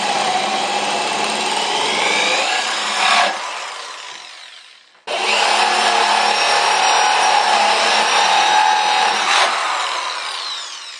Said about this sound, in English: now I'm going to drill the holes for the wooden dowel